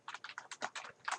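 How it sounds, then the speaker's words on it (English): Computer keyboard typing while entering a comment into a PowerPoint 2013 table, about a dozen quick clustered keystrokes in short irregular bursts, close and fairly quiet with no voices. "we're going to type in the comment"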